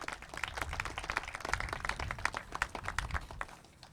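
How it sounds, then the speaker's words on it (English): A crowd at the groundbreaking ceremony for the Malden police headquarters gives a round of applause, a steady patter of many hands heard somewhat faintly from a distance before it tapers off. "Let's give them a round of applause."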